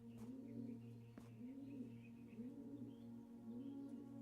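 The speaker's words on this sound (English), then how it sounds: "We got doves." Doves in the video game Blue Prince give a series of soft, rhythmic coos, about four rolling phrases spaced evenly over a low steady hum, with a couple of brief clicks.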